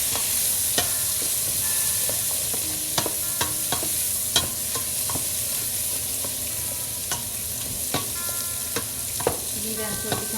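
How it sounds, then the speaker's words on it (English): Onions for a Sri Lankan Batticaloa-style mutton curry fry in a pan with a steady, close sizzle, punctuated by frequent sharp crackles and pops from the hot oil. "So now is the time to put the onion. The onions are in."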